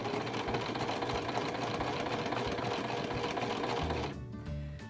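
A sewing machine runs steadily, stitching through paper in a dense, continuous mechanical whir that eases off near the end as the needle slows for a short back stitch.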